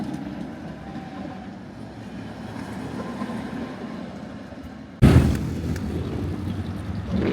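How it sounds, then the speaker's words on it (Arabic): An old tram passing along a street in Prague, a steady rolling rumble of wheels on rails that jumps abruptly louder and closer partway through. "شوف هذا الترام القديم"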